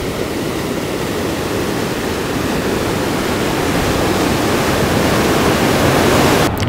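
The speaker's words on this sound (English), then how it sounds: "The creek meets up with the Arkansas River" Constant broad rushing of flowing water, loud and close, steady throughout, where a creek pours into the Arkansas River at Buena Vista, Colorado.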